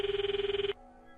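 A phone rings in the Steins;Gate 0 video game, a steady electronic ringing pulsing rapidly for under a second before cutting off abruptly into quiet background tones.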